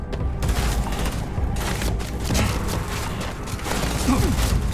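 Sustained gunfire from the Starfield video game crackles loudly in dense, overlapping bursts of shots and booms throughout, with no talking.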